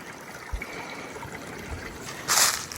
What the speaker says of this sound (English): stream continues right under the bridge and hopefully most of the way down the path because we love the sound of running water.